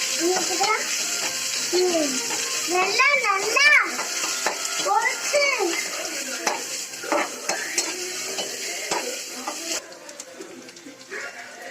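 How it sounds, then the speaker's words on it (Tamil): Onions and green chillies sauté in a pan for dry fish thokku, a soft sizzle under repeated stirring scrapes and metal clinks, with a voice chattering nearby. "அதையும் போட்டுக்கிறேன். நல்லா வதங்கட்டும், கிண்டி விட்டுக்கலாம்."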